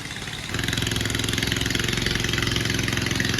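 A boat's engine chugs as the boat pulls up to a river ghat, starting after half a second and then running in a steady, fast, even throb at a fairly close distance with no talking.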